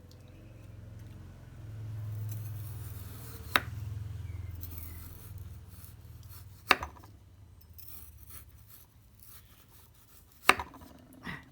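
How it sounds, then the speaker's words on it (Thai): A knife cuts frozen meat into thin slices to compare blade edge angles. Three sharp, separate cutting taps come several seconds apart over a low, steady background hum, with no talking. "เมื่อกี้เราหั่นบาง แล้วทีนี้มาดูถ้าเราหั่นหนา"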